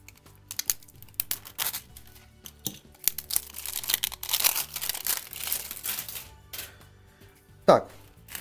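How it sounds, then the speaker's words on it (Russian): Plastic packaging crinkles and rustles while a parcel holding three small devices in individual bags is unpacked, with bursts of close crackling and tearing spread irregularly, one sharp loud crunch near the end. "мы открываем заключительную посылочку"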